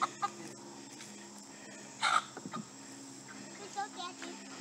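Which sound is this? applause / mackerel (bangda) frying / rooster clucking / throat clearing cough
rooster clucking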